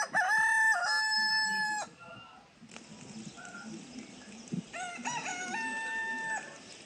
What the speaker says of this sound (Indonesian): Ya benar, suara ayam.